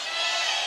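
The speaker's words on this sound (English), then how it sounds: "Big cheer for SKT." Big arena crowd cheering at a League of Legends esports match, SK Telecom versus Rebels Anarchy, a loud, sustained wash of many voices with no gaps.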